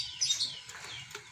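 A white-rumped shama (murai batu) chirps faintly in short, high, thin bursts, a few quick calls and twitters standing alone against a quiet background.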